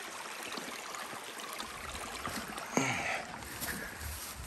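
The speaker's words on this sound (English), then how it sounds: "real pretty creek crossing right before the ranger station" Creek water rushes steadily at a pretty trail crossing near a backcountry ranger station in Yellowstone in October, a continuous broadband wash with a brief louder splash midway.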